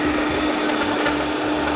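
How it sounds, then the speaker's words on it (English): A blender running continuously at full speed, pureeing cream, shallots, garlic, flambéed gin and chicken livers into a mousse, a steady loud whirring motor hum with no pauses. "I'm combining my cream, shallots, garlic, flambéed gin, the fond from the livers, and the livers in a blender"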